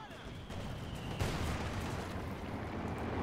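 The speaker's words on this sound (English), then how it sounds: "Mortar is firing, but it's not going to be hitting anything, most likely" Mortar fire in the Company of Heroes 2 strategy game, a dense rumbling battle din with a sharp launch thump partway through, continuous and mid-level.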